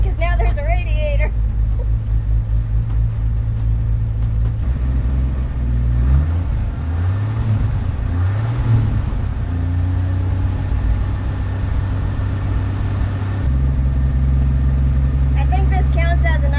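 Car engine idling after sitting unused for 15 years, a steady low rumble close by with pitch wobbles and a brief rise in revs midway, a few faint squeaks at the start and end.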